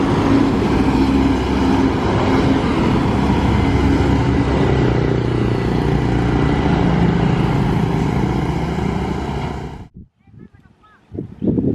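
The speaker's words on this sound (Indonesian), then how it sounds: "ini unit Sultan Class kedua dari PO MPM yang berangkat" An MPM Sultan Class tour bus pulls away on a Sunday morning in Solo with a loud, steady diesel drone up close, which fades and cuts off near the end, leaving faint scattered noises.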